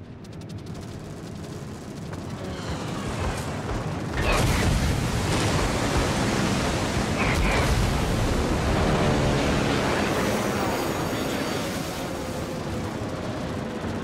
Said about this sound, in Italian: potete vedere stiamo abbattendo molti aerei